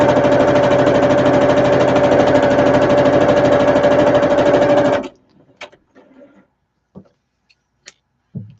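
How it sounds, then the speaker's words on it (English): Sewing machine stitching along a zipper right beside the teeth, a fast steady mechanical whir for about five seconds that then stops, followed by a few faint clicks and handling noises. "I am sewing so it sews right beside the teeth"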